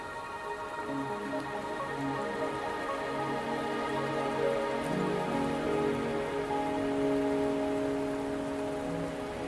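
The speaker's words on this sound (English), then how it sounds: "Are you trapped here by the rain?" Steady rain patters down continuously with a soft, even hiss, a low drumming underneath and no voices, in the video game Wuthering Waves.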